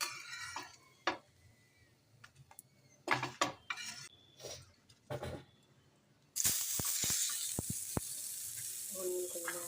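Brinjal frying in oil in a pan: scattered clinks and light sizzles at first, then a steady loud hiss of frying that continues to the end, with occasional utensil taps.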